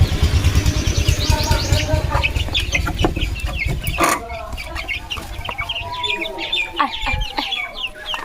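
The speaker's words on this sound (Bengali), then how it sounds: "মুরগিগুলো সকাল থেকে ছেড়ে দিতেই মনে নেই তো মুরগিগুলো এখন ছাড়বো" Chickens being let out in the morning at a rural home in the Sundarbans cluck loudly and continuously, with several overlapping calls close by and a sharp thump midway.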